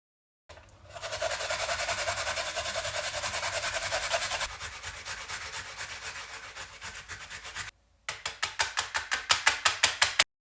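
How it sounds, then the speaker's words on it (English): Daikon radish is rubbed against a grater in steady, close scraping strokes, continuous for several seconds, then a short pause before a quicker run of distinct rhythmic rasping passes. "And now we're going to grate this down."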